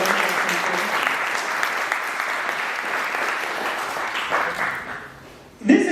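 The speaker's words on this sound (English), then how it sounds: "give him a big round of applause for that" An audience at the Garje Marathi Global Horizon 2025 event gives a round of applause, steady clapping that gradually fades before a voice starts speaking at the very end.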